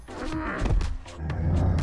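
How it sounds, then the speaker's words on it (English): The Neverbeast creature's voice, layered from cat, dog, llama, hyena and camel sounds, comes as a continuous run of deep groans and growls with rising and falling snarls, alone and fairly close. "His voice has elements of a cat, a dog, a llama, a hyena, and even a camel."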